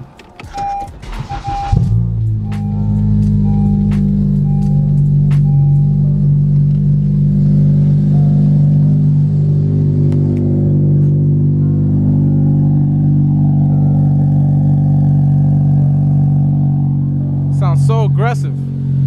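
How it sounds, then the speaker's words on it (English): A ninth-generation Honda Civic Si engine cranks and catches, then settles into a loud, steady rumbling idle close by, with a brief rev and a mechanical whine near the end. "So one thing we gotta do now is start the car."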